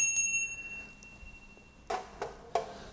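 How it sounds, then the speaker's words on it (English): A hand bell rung as a worship offering in a Hindu temple, giving three short, bright rings in steady succession, near and clear against a quiet room after a faint earlier chime. "We offer the bell, because the bell's pleasant for the ears."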